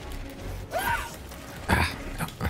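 A weapon reloads in Helldivers 2 with mechanical clicks and clacks in a short sequence, heard over game ambience along with a brief vocal sound.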